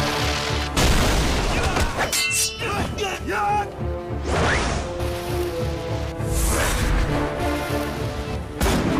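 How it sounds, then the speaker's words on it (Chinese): Loud booms and crashing impacts of artillery fire as cannons come under attack, a dense, continuous barrage of blasts and whooshes, with voices shouting over the noise. "一定是大炮遭到袭击了"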